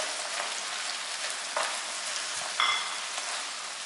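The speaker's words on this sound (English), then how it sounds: "add a can of tuna and the lime leaves. I'm gonna turn up the heat and stir it a bit." Canned tuna, chilies and lime leaves fry in garlic oil over raised heat, a steady close sizzle running throughout with a couple of sharper spattering bursts partway through.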